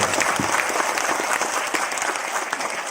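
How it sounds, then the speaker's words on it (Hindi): A large audience at a motivational speech breaks into loud, sustained applause, a thick roar of many clapping hands with faint crowd noise and no clear talk. "अब तक की सबसे जोरदार तालियां ऊपर वाले के लिए एक बार हो जाए।"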